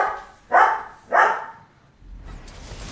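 A pet dog barks twice in quick succession indoors, two loud, sharp woofs about half a second apart, followed by quieter background rustle.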